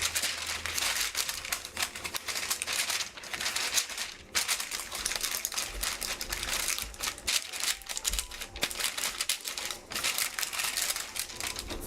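Parchment paper for baking crinkles and rustles continuously in dense, close, irregular bursts as it is weighted down at the corners.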